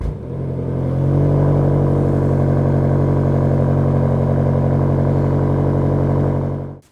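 A Range Rover Sport SV engine runs in a deep, steady, loud rumble that swells after the first second and holds a constant rev for several seconds before it cuts off.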